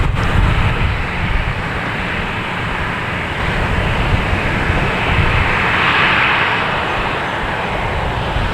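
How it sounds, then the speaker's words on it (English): Delta Airbus A330 airliner arriving at Boston Logan Airport on its approach from Rome, a loud, steady, broadband jet roar that holds throughout and swells slightly near the end, with no voices. "Delta, an A330 coming in from Rome."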